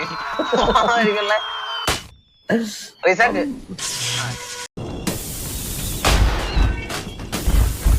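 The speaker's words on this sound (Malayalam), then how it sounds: "എല്ലാ പടക്കവും പൊട്ടി." Rapid bursts of crackling pops and hissing blasts as firecrackers explode in a video game, loud and close, interrupted by short gaps and overlapping electronic tones and voices.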